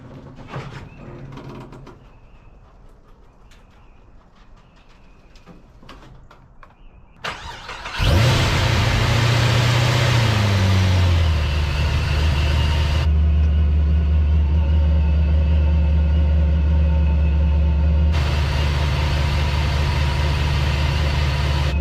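Procharged Pontiac GTO engine starting with a cranking whine, then settling into a loud, close, steady idle rumble after faint background noises, as the car is rolled off the lift.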